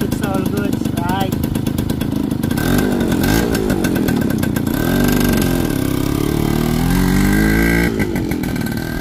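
A 1979 Yamaha YL2 two-stroke motorcycle engine runs close and loud throughout, with a steady buzzing idle and a few revs rising and falling.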